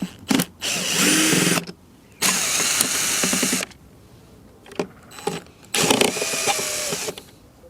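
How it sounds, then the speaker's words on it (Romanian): A power tool backs out screws from a lithium battery case in bursts of drilling: four loud runs of whirring motor with short pauses between them, plus small clicks and rattles of screws and metal parts. "Hai să scoatem cele 10 șuruburi. Merge repede că folosim mașinăria."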